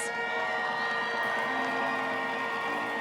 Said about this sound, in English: Let's give Vivi a big round of applause.